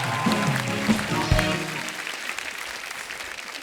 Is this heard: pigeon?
no